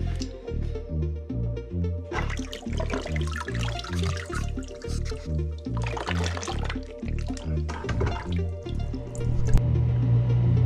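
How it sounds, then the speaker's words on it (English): Running water rinses dry rock meant for a saltwater aquarium, making a steady, rhythmic splashing and gurgling that stays loud and close throughout and swells near the end. "Okay guys, so I rinsed"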